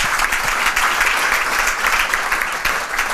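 Conference attendees at an agile-teams business event clap together in a steady, fairly loud wash of applause that holds evenly from start to finish, with no talking over it.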